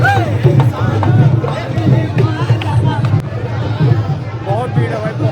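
Dense crowd hubbub on a busy walk toward Ajmer Sharif Dargah, with babble, footsteps and street noise pressing close and steady throughout, nearby voices talking over it.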